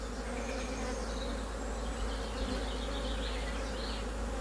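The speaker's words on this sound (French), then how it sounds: "il y a plein d'abeilles" Dense, steady buzzing of many honeybees around an open hive, a close continuous drone with no pauses and no voices.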